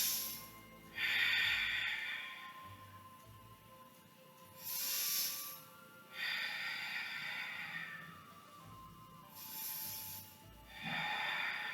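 Slow, audible breaths while holding a beginner yoga pose, several long airy inhales and exhales in a steady rhythm, close and fairly quiet with no talking.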